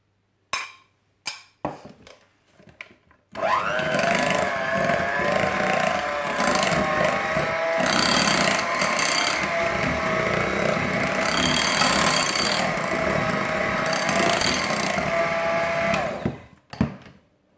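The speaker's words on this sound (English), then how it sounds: "And give them a good whisk in between each egg." An electric mixer whisks eggs into orange cake batter, running steadily for about thirteen seconds at close range after a few clinks of eggs and utensils against the bowl.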